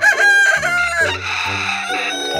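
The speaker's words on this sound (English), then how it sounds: "Rooster." A rooster crows loudly and close, a long strained call followed by a second crow, over children's alphabet-learning music.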